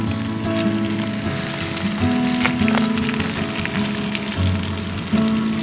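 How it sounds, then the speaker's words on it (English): Food fries in olive oil with lemon in a hot pan with a constant crackling sizzle, close and steady, while faint low tones hum underneath. "Listen to that sizzle."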